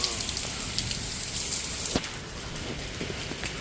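Steady rain falling and pattering on surfaces outdoors, a constant hiss with occasional sharper drops, moderately faint, no talking over it.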